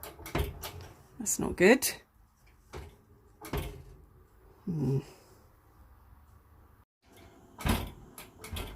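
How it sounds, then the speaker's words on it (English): A new oven door is shut several times, giving brief loose rattling clatters at close range, broken up by a person talking nearby. "I don't know why, but it's rattling when I shut the door."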